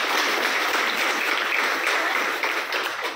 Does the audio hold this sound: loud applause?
yes